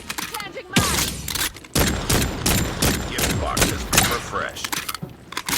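Rapid gunfire in a carnival shoot-out shooting-gallery game, aimed at moving targets. Loud, close bursts and single shots come in an uneven rhythm, with short pauses between volleys.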